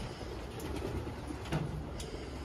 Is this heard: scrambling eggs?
no